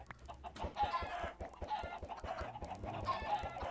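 Chickens in the Minecraft video game cluck in a quick, repeated series of short clucks over a steady background, moderately loud and close.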